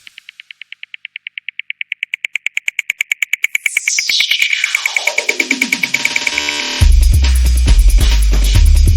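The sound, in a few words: dubstep music excerpt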